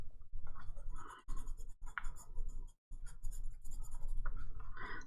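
Coloring on a paper page in an art journal, without gesso: a dry, steady scratchy rubbing of the coloring tool in short strokes, close by, broken by brief pauses.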